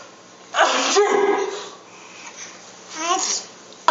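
A baby fake-sneezes in imitation of an adult, giving a sharp voiced burst followed by a second higher sneeze-like squeal. The sounds are close, with quiet pauses between them.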